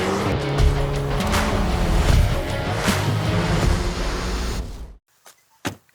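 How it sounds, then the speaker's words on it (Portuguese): A new Alpine A110S, the more powerful version of the French sports car, drives with a loud, steady engine roar and changing tone. The roar cuts off abruptly near the end, leaving a few brief faint noises. "Esta semana estivemos ao volante do novo Alpine A110S, um desportivo que carrega a história dos ralis"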